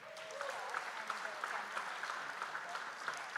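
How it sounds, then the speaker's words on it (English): Audience applause at a business hall of fame ceremony honouring student CEOs, dense continuous clapping from a large crowd, steady and moderately loud throughout. "I was going to ask you for a round of applause, but you took that upon yourselves"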